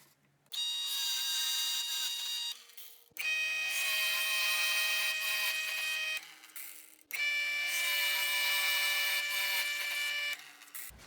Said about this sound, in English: I will use a 3/4 inch Forstner bit to hog out the holes in the middle